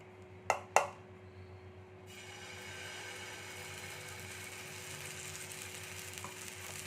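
Rice batter hitting hot oil on a tawa, with two sharp splatter bursts followed by a steady, broad sizzle that builds and holds as the batter fries.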